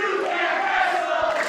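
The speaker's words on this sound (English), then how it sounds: "And the crowd here at EWF Arena. The crowd is a bunch of idiots. Listen to them." A wrestling crowd at EWF Arena roars steadily and loudly throughout, a dense continuous wall of cheering and shouting with no pauses.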